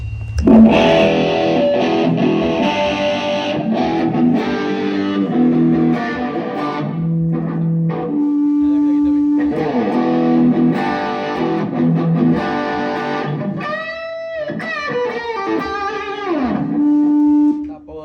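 Electric guitar run through an effects pedal, first with the color control turned to the overdrive side and then to full distortion, playing sustained chords and riffs loudly and alone, with bends and a brief pause midway.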